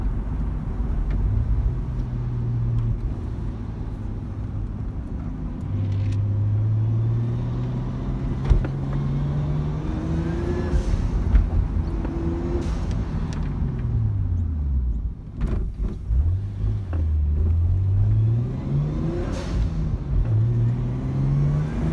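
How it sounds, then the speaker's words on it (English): A Nissan Skyline R34 GT-T engine revs repeatedly, its pitch climbing and falling through the gears, loud and close with an airy, throaty rasp throughout. "just that airy RPM revving through the rev ranges"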